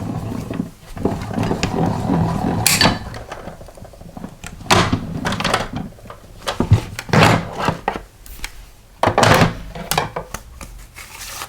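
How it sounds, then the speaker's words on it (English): A die cut machine cutting card stock for a birthday card, heard as close wooden thunks, rolling and clunking bursts with handling noise in between, uneven and moderately loud. "So those are ready to run through my die cut machine."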